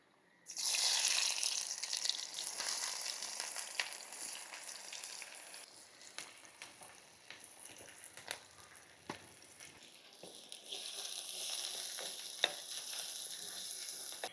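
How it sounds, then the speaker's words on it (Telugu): Onions and green chillies sizzle and crackle in hot oil in a pan, a close, bright hiss that stays steady with occasional stirring clicks and pops. "నూనె మరిగిన తర్వాత ఉల్లిపాయలు పచ్చిమిరకాయలు వేసుకొని దోరగా వేయించుకుందాం అండి."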